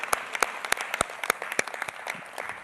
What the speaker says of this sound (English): Let's give them another round of applause as they leave the stage.